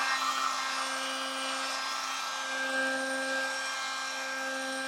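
A heat gun warms edge banding tape before trimming, giving a continuous, even whirring blow with a steady tonal whine and no breaks.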